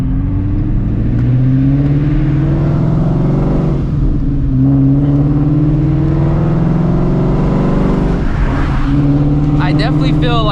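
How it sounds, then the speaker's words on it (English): An 800HP Shelby GT350 idles and warms up with a steady, loud, low engine drone, then builds slightly as it begins pulling out, with a brief whirring at the end. "I'm gonna let the car warm up, then I'm gonna pull out."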